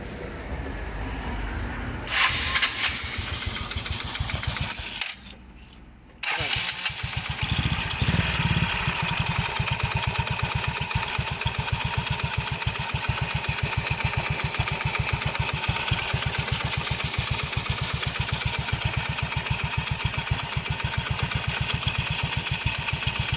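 A Yamaha Nouvo scooter engine idles steadily with a rapid, even chugging, a brief drop in level, then continuous rattling mechanical whir from a noisy transmission close by.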